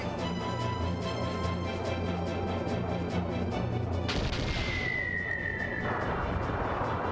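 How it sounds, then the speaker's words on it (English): Torpedoes firing in the role-playing game Skies of Arcadia Legends, a loud sudden burst of launch and impact noise with a sustained whistling tone trailing off over a dense rumbling game soundtrack. "the torpedoes work"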